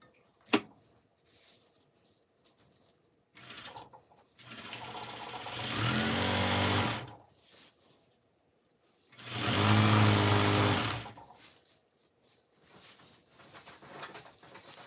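A sewing machine stitches a tool onto the edge of a ribbon in two whirring runs of about two and three seconds, close by, with a sharp click before them and quiet mechanical handling between.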